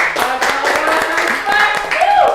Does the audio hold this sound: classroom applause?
yes